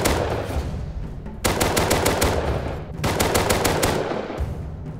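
Rapid automatic gunfire from shooting targets in the video game Rust, two long loud bursts of fast, evenly spaced shots separated by a short pause, close and dominant with no talk.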